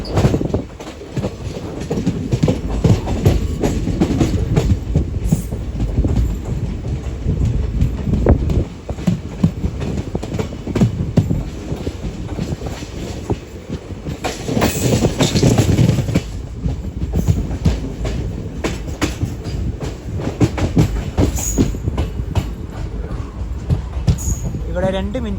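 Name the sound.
superfast train arriving at Udupi railway station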